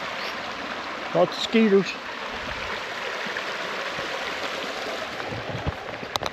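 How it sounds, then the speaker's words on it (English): A small forest creek at a mountain truck camp flows with a steady, soft rushing wash throughout, while someone speaks briefly near the start. "Got a nice little creek."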